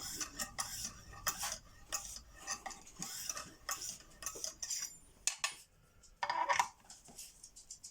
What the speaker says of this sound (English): we're now just coming up to the polishing stage, where all I'm going to do then is polish the knife